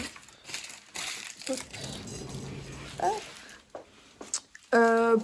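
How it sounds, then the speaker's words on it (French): Crinkly plastic wrappers are crumpled in bursts close to the listener, with a few faint background sounds and a sharp tonal beep near the end. "j'enlève les papiers de bonbons"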